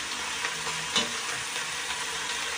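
Fish curry gravy bubbles and sizzles steadily in a pan, a dense close hiss with small pops and one brief clink midway, no voices.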